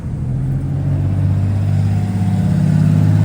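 A Honda Acty mini truck fitted with an aftermarket exhaust idles and revs steadily, a loud, close, continuous engine drone with a throaty low rumble and no talking.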